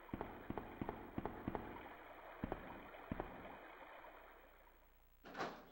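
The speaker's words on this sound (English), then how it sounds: "Sounds like running water." Running water in Resident Evil 2 on the N64, a steady low rushing wash under a series of sharp periodic footstep-like clicks, with a brief brighter burst near the end.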